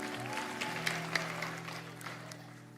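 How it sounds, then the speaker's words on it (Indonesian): A church congregation at a teen worship service claps together under sustained keyboard or organ tones, a soft, steady wash of hands with no standout voices. "berikan tepuk tangan untuk Tuhan."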